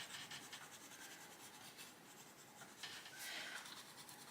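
Colored pencil pressed hard and burnished onto paper while coloring a flower, a steady close scratchy rasp that runs the whole time and grows slightly louder and harsher near the end.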